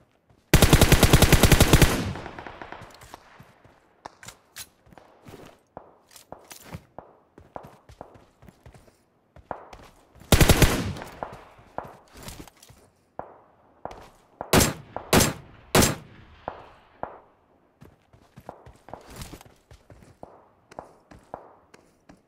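Automatic weapon fire in PUBG Mobile, on the Georgopol map in a solo-versus-squad match: loud, dense bursts open the stretch and recur midway, then several sharp volleys follow, with light footsteps and small clicks between them.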